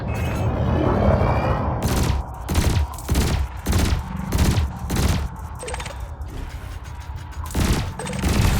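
Weapons fire at canisters in the space game Elite Dangerous, a loud roar giving way to rapid bursts of repeated shots and booms in quick succession, with no speech over them.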